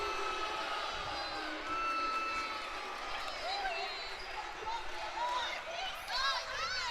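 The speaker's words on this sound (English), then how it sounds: "And now the Northeast crowd is going to let him hear it." Home crowd at a Northeast vs. Spring-Ford PIAA 3A boys volleyball match jeering the opposing coach, a broad swell of shouts and whoops in a gym, heard under a commentator's ongoing voice.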